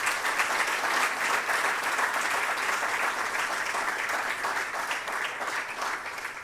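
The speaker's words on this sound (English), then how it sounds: "Shall we give them a round of applause?" An audience at a global health research anniversary event applauds past directors with continuous, fairly distant clapping that holds steady and fades slightly toward the end.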